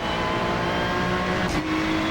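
A car in a drag race holds a loud, droning engine note at close range, steady with a slight rise in pitch, with a brief whoosh near the end.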